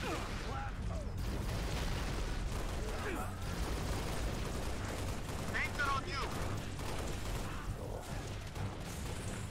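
Needler fire in a Halo Reach match: a dense, continuous barrage of rapid crackling shots and impacts, with explosive bursts throughout and what sounds like faint voices mixed under the game noise.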